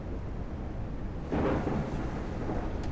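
A thunderclap from a lightning strike in the game Fearful Symmetry, heard as a low rumbling swell that rises about midway and lingers over steady ambient noise, with no talking.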